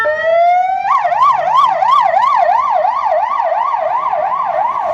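An ambulance siren on a street in Coimbra, Portugal rises in pitch, then settles into a fast, regular up-and-down wail, loud and close with faint traffic beneath.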